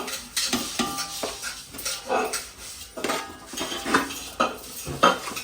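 Metal spoon scraping and clattering around a large pot while mixing a homemade dry fruit laddu mixture, in a repeated stirring rhythm with sharp clinks, close and fairly loud.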